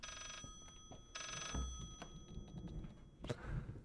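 An old-style telephone bell rings in short bursts inside the horror game Layers of Fear, heard twice amid game thuds and a faint ambient hum.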